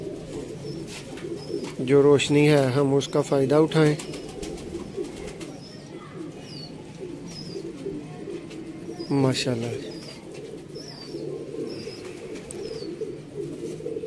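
Soft, low pigeon coos rumble steadily in the background while someone talks loudly over them near the start and again briefly later.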